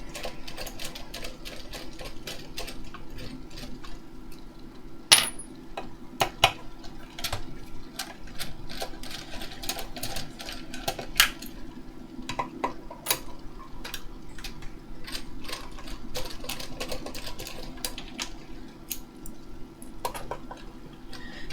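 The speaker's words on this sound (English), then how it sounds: "you're about to become a whole lot boreder as you watch me remove a whole bunch of million screws" Screws are removed from a Torrance 20K car audio amplifier, producing close, continuous ratcheting clicks and small metallic ticks with occasional sharper knocks, and no voices.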